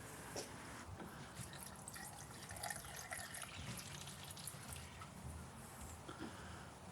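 Steady rushing, gurgling water pours continuously into the radiator of a 2009 Subaru Outback 3.6L, with faint drips and splashes and no talking.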